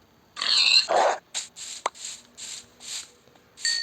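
A game dog lets out a run of short, clipped yelps and whimpers, close and clear, with no voices around it.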